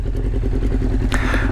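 A 1999 Honda CBR 600F motorcycle engine idles close by, a loud, steady, even throb with a brief rattling tick near the end.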